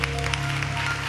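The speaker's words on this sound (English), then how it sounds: "we want to just applaud Sister Natalie Bean, who's our minister" A church congregation applauds on Choir Day, a short burst of steady clapping over a low sustained hum.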